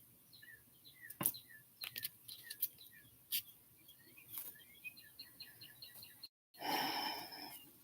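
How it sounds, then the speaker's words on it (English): A pet bird chirps repeatedly in short, high tweets and trills, close and fairly loud. A brief dropout is followed by a burst of broadband rustling or noise near the end. "The bird stepped on that again."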